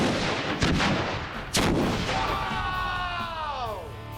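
A staged manhole sewer explosion goes off with two sharp, loud booming blasts close by, followed by a lingering rumble and a descending whistling tone as it fades.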